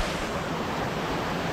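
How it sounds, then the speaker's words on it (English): A waterfall at Steep Falls, Maine, running high after heavy rain and pouring into a river, a loud, steady, close wash of rushing water with some wind buffeting. "Waterfall. It kind of goes down and like curves over here."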